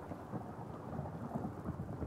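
Rain and rolling thunder in the game Fallout 4 make a low, continuous rumble and wash of steady rainfall, faint and unbroken, with no voices.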